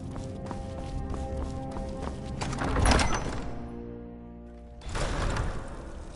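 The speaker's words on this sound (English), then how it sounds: "Horses. All day long." Hooves clip-clopping during a carriage ride in Skyrim, a steady rhythmic patter over a low rumble that swells briefly near the middle, with musical tones beneath.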